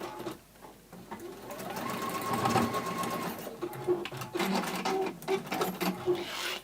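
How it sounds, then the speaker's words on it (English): A sewing machine stitches across the zip of a glitter fabric pouch sewn right sides together, running steadily and close for several seconds with brief changes in pace and no talking. "right sides together, just sew across it"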